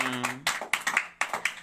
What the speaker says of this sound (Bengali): সবাই সঙ্গীতার জন্য জোরে হাততালি দাও।